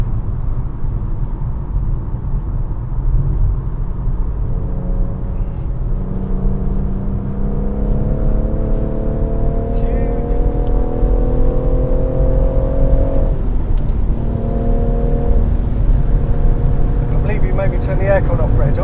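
BMW M140i lapping the Goodwood circuit, its engine droning steadily with rising and falling tones as it sweeps through a corner without braking, heard from inside the cabin with a low rumble throughout.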